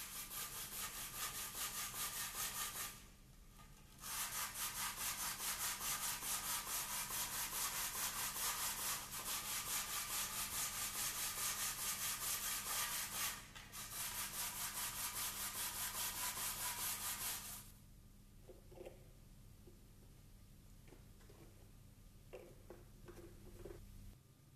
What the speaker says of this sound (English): The rim bed is sanded intensively with the abrasive cloth.